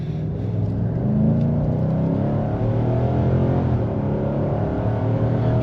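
A 2023 Nissan Titan Platinum Reserve pickup's V8 pulling hard under acceleration, heard from inside the cab: a steady, loud engine drone with rising harmonic tones as revs climb, no talking.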